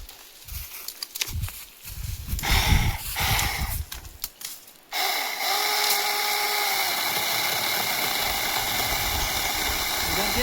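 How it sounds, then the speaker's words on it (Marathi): A machine cuts through a tree stump, starting as a loud, steady, buzzing whine that runs without a break after a stretch of voices and scattered knocks. "आता हे ठुनी कापणार आहे मित्रांनो आपल्याला"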